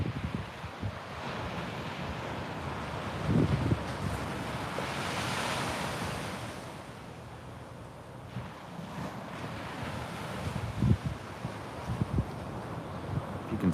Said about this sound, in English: even though the waves are so small